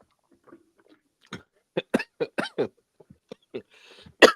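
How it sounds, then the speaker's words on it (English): A person coughs in a series of short, harsh bursts, close to the microphone, with brief pauses between and a louder cough at the end. "as I cough up a lung"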